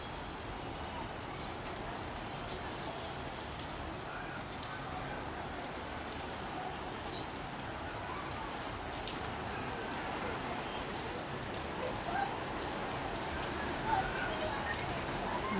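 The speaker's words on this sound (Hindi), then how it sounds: "बहुत तेज़ बारिश आ रही है।" Heavy rain pours steadily in Hyderabad, a dense continuous hiss of drops hitting surfaces, with a faint voice buried beneath it.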